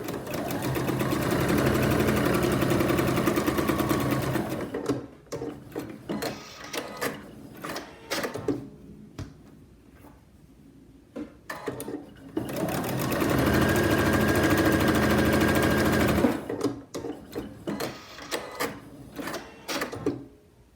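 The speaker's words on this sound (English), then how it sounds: "Now I'm just going to straight stitch down the center of those to give them a finished look." A sewing machine runs two long straight-stitch passes down the centre of folded hems on a fabric face mask, humming and chattering steadily up close, with a quieter stretch of handling noise and small clicks between the runs.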